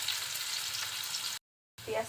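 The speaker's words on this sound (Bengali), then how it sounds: "পেঁয়াজটাও আমি একটু তেলে ভেজে নিব" Chopped onion fries lightly in oil in a pan for lentil bhorta, a steady close sizzle that cuts out briefly to silence, then returns with a faint scrape or voice at the end.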